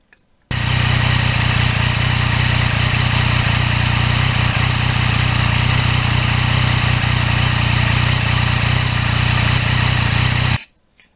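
A 2020 Yamaha MT-09 motorcycle engine drones loud and steady while riding, with wind rush over it, starting and stopping abruptly.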